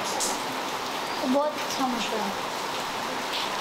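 Steady rainfall hisses throughout in a rainy-season setting, a constant wash of drops under a person talking in Hindi nearby.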